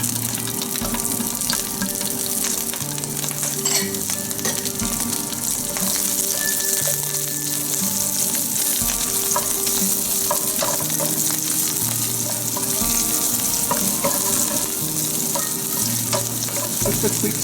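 Garlic sautés in olive oil in a pan for a duck stir fry, giving a steady, close sizzle and crackle throughout with faint stirring noises.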